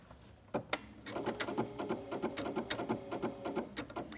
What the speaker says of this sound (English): all I'm going to do is start right in the center, and I'm going to stitch to the right